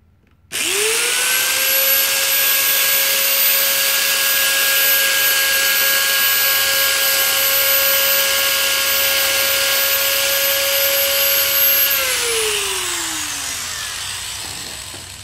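A power cutter makes a depth cut in a ceiling tile for a shadow line reveal. A loud, steady high whine starts abruptly and holds for about eleven seconds, then winds down as the blade slows. No voices.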